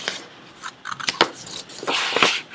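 Scissors snip through folded paper in a quick series of close, crisp cuts, loud and alone with no talk.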